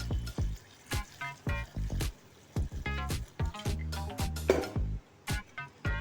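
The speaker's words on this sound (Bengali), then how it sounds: "গরম জল আমার রেডি করা আছে, এর মধ্যে ঢেলে দিচ্ছি।" Hot water poured into a pan of spiced potato, eggplant and vegetable curry, heard as a series of splashy drips and glugs with a sizzling wet quality, fairly close.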